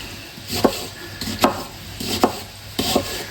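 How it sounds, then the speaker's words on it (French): A knife cuts through an onion on a board in four distinct strokes, each ending in a crisp tap, evenly spaced and close, with a faint background hum and no talking. "Ensuite, mon oignon, là simple, je le coupe en 4."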